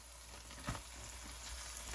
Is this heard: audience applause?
no